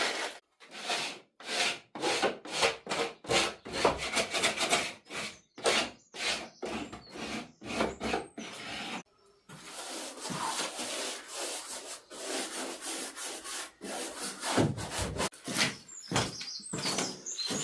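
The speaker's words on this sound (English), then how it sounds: "light sand down and get the undercoat on that" Light hand sanding of a painted wooden cupboard panel before undercoat, heard as steady rhythmic back-and-forth scraping strokes, close and fairly loud, with a brief pause midway and then denser rubbing continuing alone.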